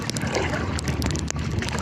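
Strong wind roars steadily and close over open water around a canoe fishing trip off Bali, buffeting the microphone without a break, with faint knocks and water noise beneath.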